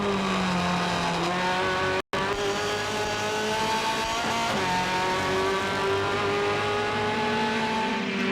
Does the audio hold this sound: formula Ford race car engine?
yes